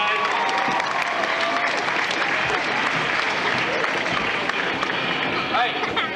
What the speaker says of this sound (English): thank you for giving that cowboy some applause